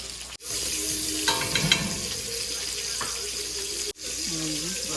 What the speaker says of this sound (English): I'm going to take a little bit of butter and melt it and add in my minced garlic.